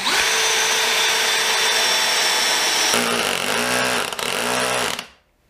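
A cordless drill on torque setting 10, first speed, drives 5 by 50 screws, a loud continuous whine that shifts pitch as the screw bites, then spins down and stops.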